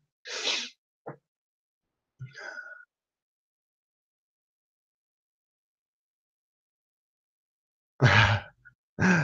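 A single sharp sneeze near the start, followed by a few short quiet vocal sounds and, after a long silence, more brief voices.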